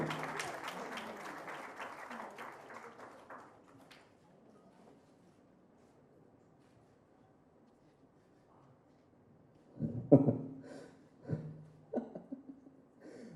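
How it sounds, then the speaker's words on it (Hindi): Applause from the audience at a poetry book launch rings out at first and fades away within a few seconds, followed by quiet room tone and a few scattered bumps and murmurs near the end. "तालियां हो जाए, everybody, come on."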